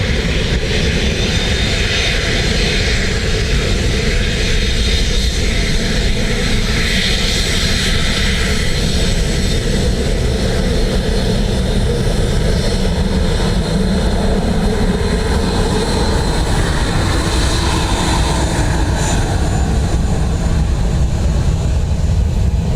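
A Ryanair jet airliner lands on runway 28 left at Dublin Airport, heard as a loud continuous engine roar and rushing wind that swells and shifts as the aircraft passes close by.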